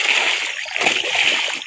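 Laundry washed by hand, with water splashing and sloshing continuously, close and fairly loud, with brief murmured talk underneath.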